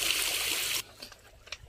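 Water from a motor pump trickling and splashing, loud and steady at first, then cutting off abruptly to faint drips and dribbles.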